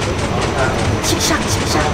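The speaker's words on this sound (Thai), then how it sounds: "รถไฟมาแล้วค่ะ" A toy train delivers food around a hotpot restaurant with a light, rhythmic clickety rattle under busy diners' chatter and a voice speaking nearby.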